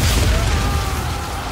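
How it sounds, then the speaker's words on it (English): A massive explosion from an arm cannon in an animated fight sequence fills the whole moment with a dense, loud, sustained roar and rumble that swamps everything else. "The actual explosion from Guts' arm cannon muffling everything with how much environmental damage it causes."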